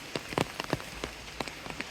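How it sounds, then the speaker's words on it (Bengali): Light village morning rain pattering steadily, with scattered individual drops ticking on a hard surface nearby; quiet and irregular, no voices. "সকাল থেকেই বৃষ্টি হচ্ছে, মোটামুটি ভালোই বৃষ্টি হচ্ছে।"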